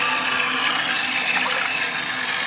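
Hot water gushes steadily into an outdoor bathtub, a close, even hiss of running water with no pauses.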